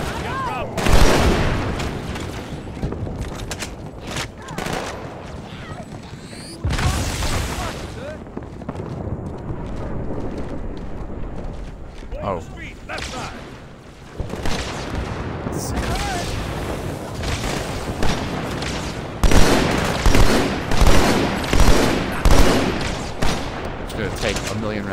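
Rapid gunfire and heavy blasts in a Halo 2 Legendary campaign battle on the Outskirts level, with loud bursts and booms recurring through the whole stretch, building into a quick rhythmic volley near the end, with players talking over it.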